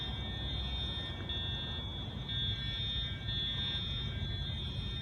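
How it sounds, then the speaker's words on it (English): Genesis fire alarms go off at Seaport Village, a continuous piercing high tone broken by periodic pulses over a low background rumble, heard at moderate distance with no voices. "This is a quick video of the fire alarms going off here at Seaport Village."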